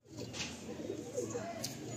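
Pigeons coo quietly in a loft of tournament-quality birds, a faint, continuous low burble with soft fluttering noises and no clear talk.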